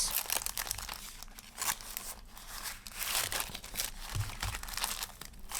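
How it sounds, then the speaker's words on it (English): A clear acetate sheet is trimmed and handled, giving soft, intermittent crinkles, crisp snips and plastic rustles close up at low volume, with no talking. "trim off this other piece of acetate"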